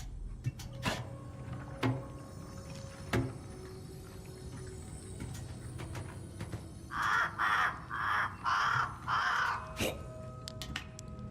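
Crows caw in the Gollum video game, a cluster of about five harsh, evenly spaced calls standing out over quiet ambient game sounds and sparse clicks.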